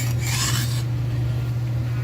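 A knife edge rasps across a natural Arkansas sharpening stone in one short, quiet stroke near the start, then fades into low background hum.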